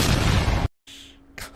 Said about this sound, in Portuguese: O barulho de tiro